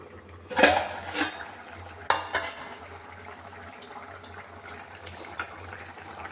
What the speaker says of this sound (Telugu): ఇదిగో ఇప్పుడు మూత తీస్తున్నాను.